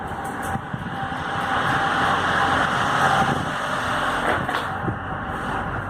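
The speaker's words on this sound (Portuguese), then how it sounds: "o caminhão passando" A truck passes outside on a street, its engine rumble building to a broad, loud swell in the middle and then fading, with a few knocks and rattles.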